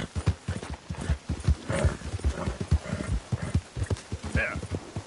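Horse hooves gallop in the video game Red Dead Redemption 2 in a fast, steady clip-clop rhythm, with a short whinny near the end.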